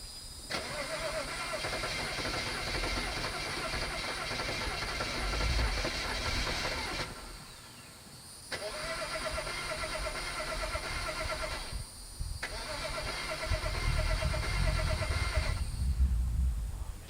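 A BMW 535xi wagon with old fuel and several faults is cranked again and again, the starter whirring steadily in long bursts broken by short pauses, without the engine catching, heard up close and with no talking.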